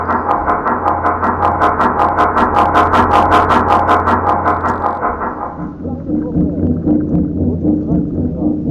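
Warship engines revving in a U-boat submarine video game, a loud sustained low rumble with rhythmic pulsing beats that drops to a lower, rougher drone partway through.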